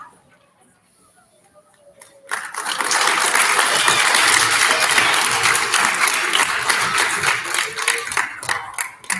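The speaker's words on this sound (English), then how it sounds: "big round of applause for our bus riders." After a quiet moment with faint talk, an audience at an elementary school student recognition ceremony breaks into loud, sustained applause, a dense close wash of many hands clapping that holds steady to the end.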